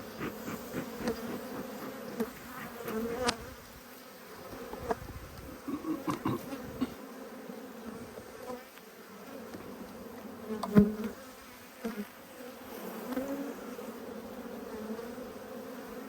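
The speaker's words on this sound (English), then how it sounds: "Bees are getting wild again" Steady buzzing of honey bees fills the air during an apiary hive inspection, close and continuous, with occasional louder passes of individual bees nearby.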